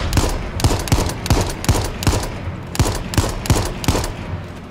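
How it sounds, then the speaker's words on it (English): Rapid bursts of gunfire in the H1Z1 video game ring out at a Jeep, around a dozen sharp shots in uneven clusters, loud and with no talk. "I got about 4 or 5 solid shots into that Jeep"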